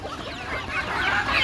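Layer hens just let out of their enclosure cluck and squawk continuously in a dense, close chorus amid rustling farmyard noise.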